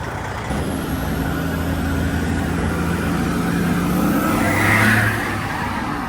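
A yard jockey truck works in a crowded truck yard moving trailers, its engine droning loud and steady, straining and revving higher toward the end amid broad outdoor noise.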